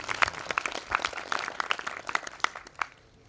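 Scattered, thin clapping from a small group applauds the kitchen staff during a spiritual camp session in Palitana, Gujarat, with uneven claps that thin out and stop near the end.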